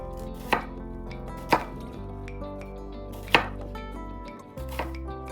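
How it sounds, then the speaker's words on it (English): Two medium onions being finely chopped with a knife on a cutting board, with a few sharp, evenly spaced knife strikes standing out clearly against steady background hum and no voices. "I'm gonna add 2 medium-sized onions, peel them and chop them finely."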